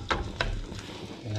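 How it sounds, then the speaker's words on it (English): Shrimp and freshly caught pier fish sizzle in a hot pan for fried rice, a steady close hiss of frying broken by a few sharp scraping clicks of stirring. "I don't know if you guys can hear that sizzling already"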